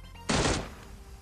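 A burst of gunfire in the Miramar map of the mobile battle-royale game PUBG Mobile, a single loud crack-and-rattle of shots lasting about a third of a second before decaying, close and prominent.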